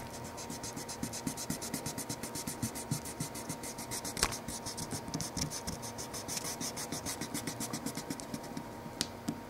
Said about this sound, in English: So I just like to erase around the spots.